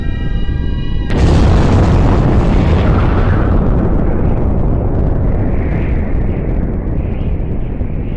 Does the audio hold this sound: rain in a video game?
no